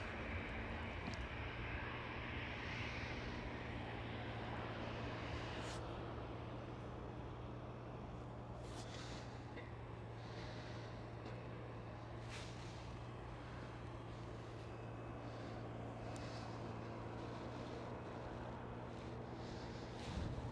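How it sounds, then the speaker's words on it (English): At Schiphol airport, a jet airliner, an American Airlines 787, taxis past as a constant low engine drone and hum, steady and fairly distant, with faint scattered clicks and no voices. "the American Airlines 787 is taxiing towards another runway"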